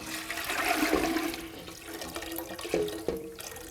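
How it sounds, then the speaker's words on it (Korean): Water in which malt has been soaked pours into a large stock pot with a gushing, splashing rush that tapers off, followed by a few sloshing drips, close and with no talking. "그런 다음에 엿기름 빨아놓은 물 또 넣어요."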